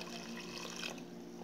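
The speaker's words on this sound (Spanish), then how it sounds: "En este tanto de 1 kilo que tengo de lenteja, voy a poner más de 1 litro de agua." Water is poured steadily into a pot holding a kilo of rinsed lentils, a continuous quiet trickling wash that briefly trails off near the end.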